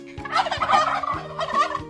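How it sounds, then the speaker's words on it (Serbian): A domestic turkey gobbles in two quick, warbling bursts, close and clear, with a soft musical tone holding underneath. "Ćurka pravi veoma neobičan zvuk. Ona pućpuriče."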